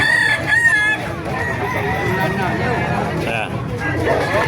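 Roosters crow and chickens cluck amid a busy, noisy crowd at a chicken market in Calumpit, Bulacan, with people talking throughout over a constant market din.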